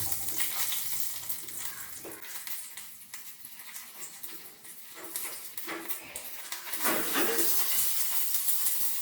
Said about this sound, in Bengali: সামান্য একটু তেল দিয়ে আমি রসুনটা ভেজে নেব